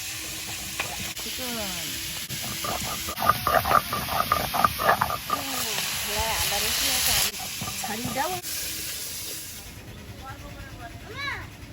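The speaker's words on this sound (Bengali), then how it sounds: "বাকি মাছগুলো ভেজে নেবো" Steady hiss and sizzle of magur catfish frying in hot oil, with a person talking over the crackle throughout and the frying noise swelling and easing as the pieces are stirred.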